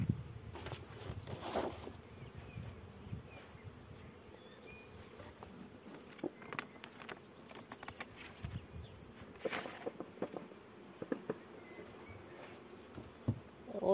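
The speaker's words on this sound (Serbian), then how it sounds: "Ove bi pčele sad trebalo da se dime." Honey bees from a swarm taken from a beech log, hive opened during inspection, keep up a steady close buzzing hum through the whole stretch, with occasional louder passes of single bees and faint handling noises.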